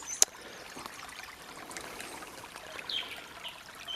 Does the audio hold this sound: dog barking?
no